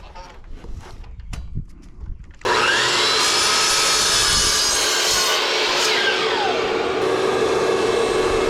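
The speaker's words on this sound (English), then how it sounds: "All right, so using my miter saw," A miter saw set to 45 degrees cuts wood while building a chicken tractor, starting after a short stretch of quieter handling noise with a sudden loud motor roar and a sustained whine through the cut, close and dominant.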